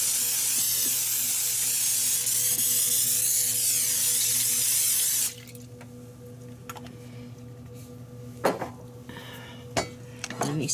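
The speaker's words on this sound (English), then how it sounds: "now I'm going to spray my pan" Pam cooking spray hissing onto a casserole pan in a home kitchen, a steady close spray lasting about five seconds, followed by quiet clinks of utensils and dishes.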